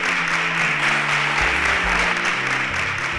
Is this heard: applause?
yes